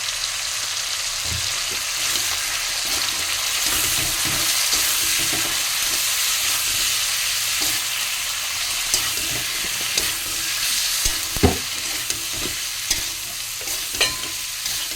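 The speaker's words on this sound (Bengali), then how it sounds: "ভালো করে ভেজে নেব" Chilli, turmeric, ginger and garlic fry in a pan with a continuous close hiss and sizzle, while occasional spoon scrapes and light knocks against the pan punctuate it. No one speaks.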